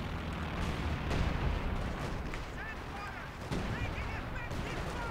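Heavy artillery barrages in the Company of Heroes 2 WWII strategy game, 4v4 on the Red Ball Express map: repeated deep booming impacts and rumbling blasts one after another, loud and dense throughout, with a commentator's voice talking over them.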